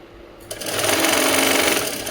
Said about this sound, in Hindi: अब देखिए छोटी छोटी चुन्नटों को धीरे धीरे करके अच्छे से जमा के सिलाई लगा दीजिए।